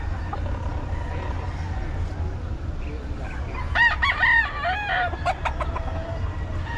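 Chickens cluck and a rooster crows in a short burst midway, over a steady low rumble of traffic or engine noise.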